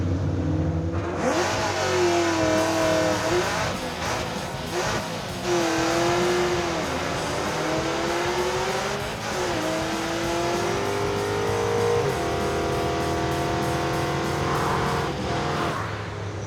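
A muscle truck launches on a drag strip with a loud, close engine roar that rises and falls through the revs, then holds a sustained howl as it pulls away, with no talk.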